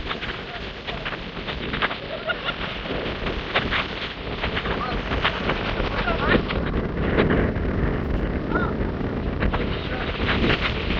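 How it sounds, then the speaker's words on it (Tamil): Strong stormy wind gusting along the coast, a loud, continuous rushing roar with buffeting on the microphone throughout, and a voice heard over it. "ஓ புயல் புயல் புயல் அடிக்குது"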